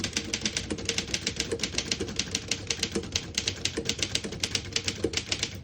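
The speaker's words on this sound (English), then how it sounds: "I'll type a sentence on the next line." A 1917 Underwood No.5 vintage portable typewriter typing a sentence, with fast, steady, crisp key strikes in an even rhythm, close and loud, with no voices.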